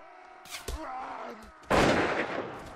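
Gunfire in the video game Mount and Blade: a couple of sharp reports early on, then a loud, sustained burst of shots with a rough noisy tail, amid battle noise and no speech.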